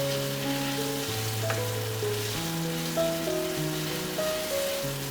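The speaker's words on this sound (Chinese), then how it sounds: "将豆瓣酱炒香" Doubanjiang broad bean paste stir-fried in a wok gives a steady, soft sizzle with light stirring, running continuously beneath background music.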